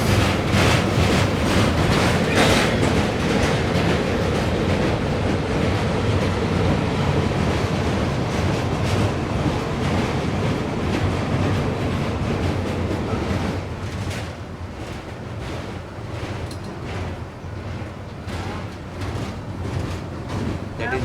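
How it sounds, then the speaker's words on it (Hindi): The Chennai Rajdhani Express rushes past in the rain, heard from aboard another train as a dense, loud clattering roar that eases somewhat toward the end. "And this is the Chennai Rajdhani Express."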